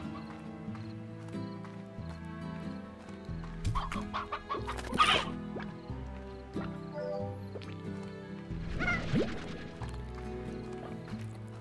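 Hens clucking in the ranch video game Slime Rancher, a series of short clucks and squawks with a louder burst midway and another flurry near the end, mixed with soft game sounds.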